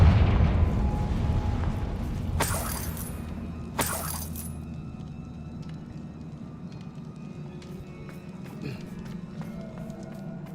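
The Confringo blasting spell goes off in Hogwarts Legacy with two sharp, loud bursts over a rumbling in-game background. Faint scattered crackles follow as the booms die away.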